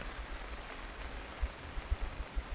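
Rain falls on an outdoor disc golf course during a tournament round, a soft, constant hiss with occasional low thumps of drops or wind, faint and steady with no talk.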